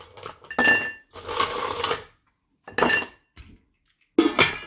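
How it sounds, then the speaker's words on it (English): A highball glass clinks and knocks against a bar counter and other glassware while a cocktail is made, in several bright, clattering bursts separated by brief pauses. "I'm going to take a highball glass here."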